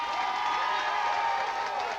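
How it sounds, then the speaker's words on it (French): Studio audience applauding a country singer, a steady, even wash of clapping and crowd noise that holds at a constant level throughout. "On l'applaudit bien fort."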